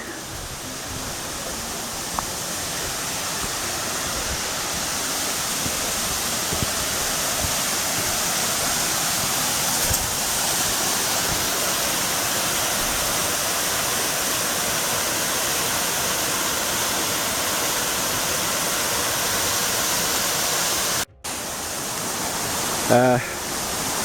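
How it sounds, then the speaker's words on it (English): Steady, loud rushing roar of a waterfall near Lake Rotoroa in Nelson Lakes National Park, New Zealand, continuous throughout with a brief dropout near the end. "Can see the waterfall there,"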